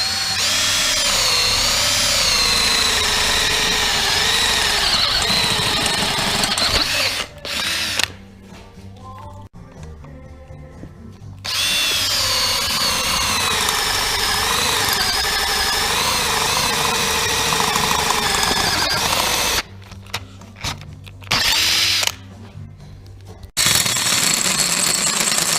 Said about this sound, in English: Alright, so we just got done running our hole saw through here.